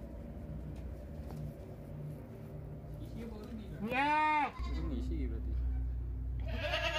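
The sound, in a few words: sick goat bleating while being massaged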